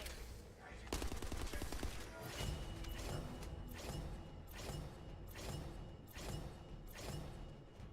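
Video game gunfire, rapid bursts of shots repeating at a steady rhythm close by, with heavier thumps among them, continuous through the whole stretch.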